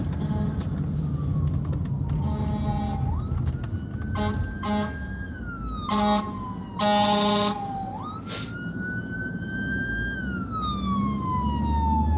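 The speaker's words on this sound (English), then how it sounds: "Uh-oh, I hear sirens." Emergency vehicle sirens sound on a city street, their wailing and yelping tones sweeping up and down over a steady traffic rumble, loud and close.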